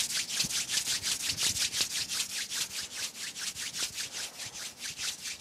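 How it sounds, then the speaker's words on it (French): Hands rub briskly together during a qi gong warm-up, making a fast, regular series of close, dry swishing strokes with an even back-and-forth rhythm and no voices. "On frotte les mains."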